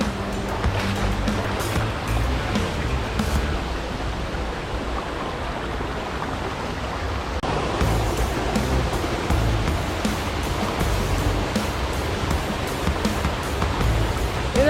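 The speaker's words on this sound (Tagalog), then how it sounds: "Ito na yung pinaka Haduan Falls." Haduan Falls in Sitio Haduan, Mabalacat, Pampanga, a loud, steady broadband roar of falling water, continuous and close throughout with no voices.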